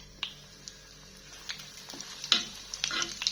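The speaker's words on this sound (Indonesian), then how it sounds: "Goreng nugget dulu ya." Chicken cheese nuggets frying in a pan give a soft sizzle with scattered crackles and pops that grow busier toward the end.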